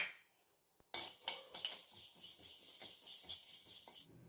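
Black urad dal roasting in a dry pan over medium flame, a steady close rattle of lentils scraped and tossed against the metal, starting abruptly after a near-silent moment and continuing throughout with no talk.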